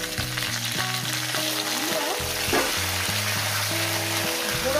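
Small potatoes go into hot oil tempered with dried chili and cumin, and a loud, continuous sizzle and crackle runs close up beneath background music.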